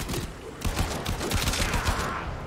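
Rapid gunfire bursts in the PUBG Mobile game, dense repeated shots filling the whole moment, with no one talking over it.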